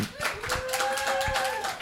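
Scattered hand claps and cheering from a small crowd, with voices and a tonal sound running underneath throughout.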